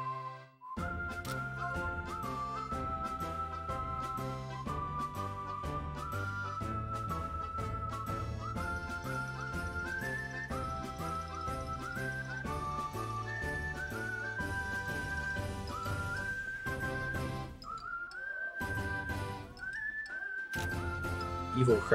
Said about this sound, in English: The whistling part reminds me of Mickey Mouse.